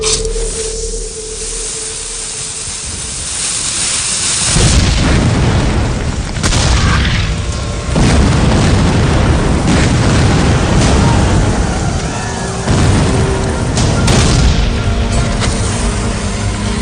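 A Civil War-era 12-pound cannon firing solid iron shot from a gunpowder charge at Gettysburg, with loud deep booms and rumbling blasts that repeat over a sustained, noisy stretch of battle sound.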